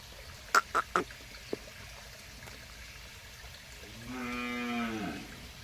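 A cow moos in a long drawn-out call on a farm, following a few sharp knocks, with steady outdoor background noise throughout.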